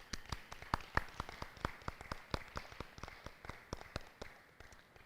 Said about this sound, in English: please recognize yourselves with a round of applause